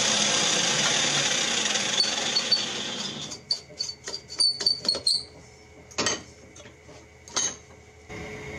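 A power tool cutting the flange off a lawn mower exhaust pipe, a steady high whine for about three seconds, then a series of short bursts of grinding and cutting with pauses between.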